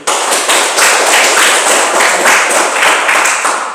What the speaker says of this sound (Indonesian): tepuk tangan dulu untuk itu